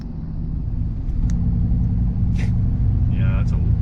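A car exhaust rumbles deep and steady with its electric cutout held open, a loud continuous low drone with a couple of brief voices over it.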